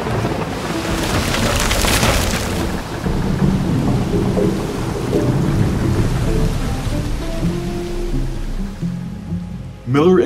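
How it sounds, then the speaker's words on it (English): A thunderstorm at sea with heavy, steady rain and a deep rolling rumble of thunder, the downpour hissing continuously and loudly before a sudden burst near the end. "the Lydia was hit by a storm and sunk"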